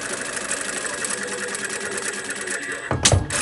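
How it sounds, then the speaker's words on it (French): Sewing machine running steadily as it stitches the hem of a fabric face mask, a continuous mechanical whir that ends in a brief louder clatter. "Vous allez tout simplement venir coudre l'ourlet qu'on a ici en bas"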